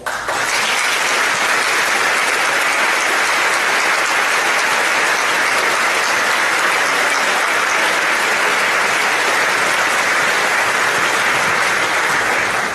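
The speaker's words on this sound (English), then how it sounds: "I'd actually like to acknowledge the Kellys and the Hardwicks with some applause as well" A large crowd at a school's head-of-school installation ceremony applauds loudly and steadily, a dense wash of clapping that carries on unbroken from start to finish with no voices.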